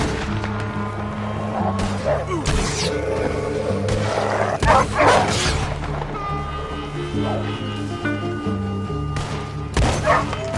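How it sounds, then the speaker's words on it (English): Dogs bark repeatedly in the Red Dead Redemption 2 video game, sharp scattered barks mixed with gunfire-like bursts and low rumbling, fairly loud, with game dialogue and background music. "Damn dogs!"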